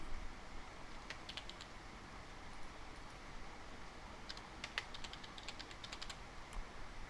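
Password keys tapped on a computer keyboard in a quiet room, a couple of short bursts of soft, quick clicks over a faint steady background hum.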